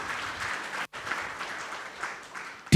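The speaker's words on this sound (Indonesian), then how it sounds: "berikan tepuk tangan meriah buat Tuhan kita" A church congregation applauds for God during an online worship service, a steady broadband wash of clapping that fills the room, briefly cut off near the first second before resuming evenly.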